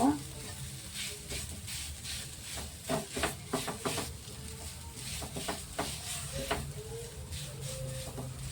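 A mung dal filling with ghee is stirred in a pan: steady frying sizzle with repeated scraping and clattering strokes of the spoon throughout, close and moderately loud.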